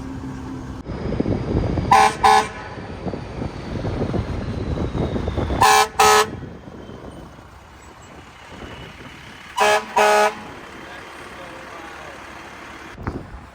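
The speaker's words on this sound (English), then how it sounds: "I hooked the air horn back up. Listen to this." Three paired blasts of a loud air horn on an International Mega Cab 4x4 truck, spaced a few seconds apart, over wind noise and a low idling engine.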